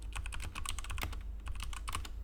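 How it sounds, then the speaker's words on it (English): Rapid, uneven clacking of keys on a cheap £3 Temu computer keyboard, with a steady stream of close, sharp keystrokes over a low background hum. "here's the sound of the keyboard normally typing"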